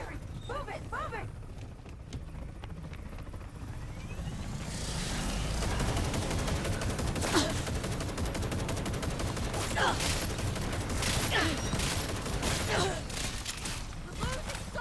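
Gunfire in Cyberpunk 2077 Phantom Liberty, rapid automatic bursts and scattered sharp shots building into a dense firefight with clanking mechanisms, while soldiers shout orders over the shooting.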